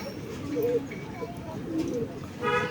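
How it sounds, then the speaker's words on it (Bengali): A few low pigeon coos sound over a faint background murmur, brief and fairly quiet. "দেখতেই পাচ্ছ এখন আমার চারটে পায়রা উঠছে আর সব পায়রা নেবে গিয়েছে"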